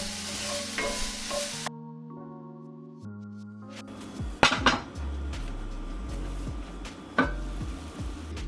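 Mushrooms, almonds, chopped garlic and sausage filling cook in a pan: a soft sizzle between the scrapes and knocks of a spoon against the pan, a near-silent pause early on, then louder clanks and continued stirring.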